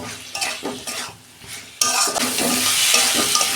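Cauliflower and potatoes stir-frying in oil in a pan, with repeated scraping stirs and clinks over a constant sizzle that swells louder and denser partway through, close and with no talking.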